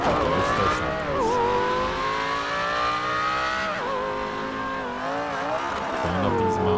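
A car engine in GTA 5, not a twin turbo, revs on a mountain road with sweeping pitch climbs and drops between gear shifts, loud and continuous at close range with no talk.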